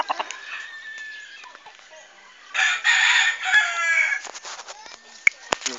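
Several roosters crow repeatedly at a newly built cockhouse on a farm, with a loud burst of overlapping crowing in the middle and scattered clucks and sharp calls around it, fairly close by.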